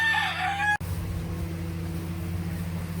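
A rooster at a sheep farm crows loudly and close by, then is cut off abruptly, leaving a steady low hum in the background.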